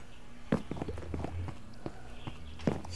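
Horses in the block-building video game Minecraft clop and shuffle nearby, a few sharp hoof thuds and snorts over a faint background hum.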